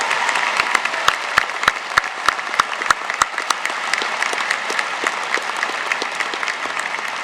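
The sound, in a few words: applause for graduating seniors at commencement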